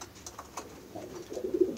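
Pigeons coo in a loft, several soft, low rolling calls overlapping and swelling toward the end, close and fairly quiet with no talk.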